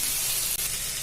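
Soy sauce and chili sauce hitting a hot pan of leftover rice, producing a steady, loud, bright sizzle that hisses continuously without pause.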